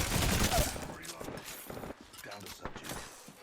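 Rapid bursts of gunfire in Apex Legends, dense and loud at first, then thinning into scattered shots and clatter beneath someone talking over the action.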